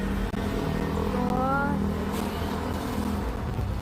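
A green motorcycle ridden by a man roars past on a busy road, its engine droning loudly and steadily as the revving pitch rises and falls over constant traffic noise.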